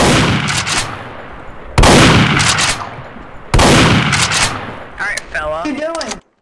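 Three loud bursts of rapid gunfire in the Dark RP video game, each cut off sharply and followed by a short decay. A voice speaks right at the end.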